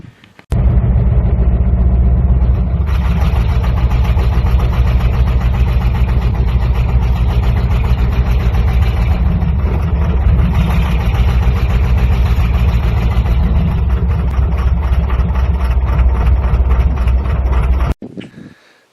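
An LS engine runs rough and clattery like a diesel, a loud, close, continuous idle with a knocking, uneven texture that holds steady for about seventeen seconds before cutting off.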